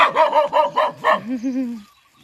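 A small dog barks loudly and close, five or six sharp yaps in quick succession, then trails off into a drawn-out whine before falling silent.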